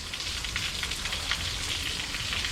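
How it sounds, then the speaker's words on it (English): Steady rain falling in an unbroken broadband hiss with dense patter, continuous and fairly close throughout, with no voices. "this rain will go away"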